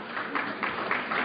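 An audience applauds in a lecture hall, a steady wash of many hands clapping at moderate loudness with slight swells, no voices on top.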